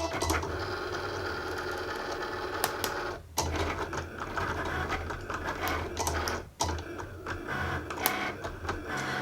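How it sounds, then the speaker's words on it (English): A Cricut machine cuts iron-on vinyl with a steady mechanical whir punctuated by clicks and short carriage sweeps, two brief pauses breaking the continuous motor sound. "I'm going to hit the blinking C, and I'm only going to cut it once because it's the Cricut"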